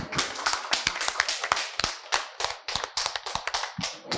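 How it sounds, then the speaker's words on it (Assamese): An audience applauds an 80-year-old grandmother after her Hindi song, a dense run of sharp, close hand claps that keeps going for several seconds, with a faint voice briefly under it. "আইতালৈ সকলোৱে হাত তালি এটা লাগে"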